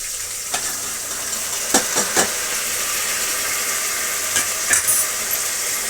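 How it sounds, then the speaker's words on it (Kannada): Vegetables stir-fried in a hot pan for bisibelebath: a loud, steady sizzle and hiss throughout, broken by a few sharp scrapes and clatters of stirring, close and with no talk. "ತರಕಾರಿ ಹಾಕ್ಕೊಳ್ಳೋಣ."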